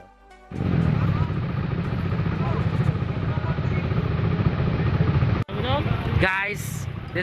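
A motorcycle engine drones steadily on a farm road, close and fairly loud, with a brief cut before the end while a voice speaks over the engine noise.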